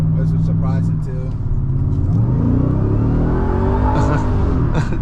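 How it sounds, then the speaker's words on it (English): A supercharged Ford F-150 Raptor R pickup revs hard with its wheels spinning, a loud, rising engine roar that climbs in pitch and holds, with people talking over it inside the cab. "I love that, like, that rev up supercharged sound when you are spinning"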